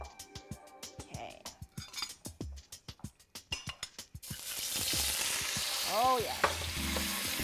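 Beef flash frying in a smoking-hot wok, a loud steady sizzle that swells in after a run of sharp clattering utensil knocks, with a brief voice exclaiming over it.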